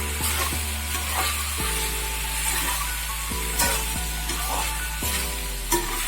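Pasta stirred in a hot pan, with steady frying sizzle and repeated scraping stir strokes, close and moderately loud, with no voices.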